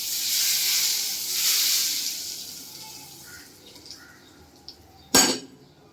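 Hot mustard-seed tempering oil is poured over raw mango for a fresh pickle and sizzles with a broad, steady hiss that slowly fades, followed near the end by a sharp clink of a utensil.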